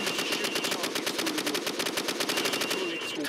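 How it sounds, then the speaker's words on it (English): Hip-fired automatic gunfire at practice targets in Call of Duty 4, a steady rapid burst of shots running the whole time, loud and close with no talking. "Now, shoot at the targets while firing from the hip."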